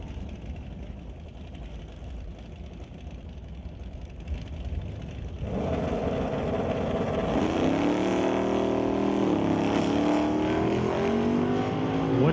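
Drag race at a strip, with an '83 Firebird among the cars: engines idle low for a few seconds, then a loud roar erupts as the cars launch and scream through rising gear changes close by.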